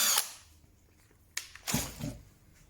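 A power drill bores a pilot hole for a screw thread in a brass turn button made from an old hinge, with a short burst, a brief whirr, then a longer uneven run of drilling close by.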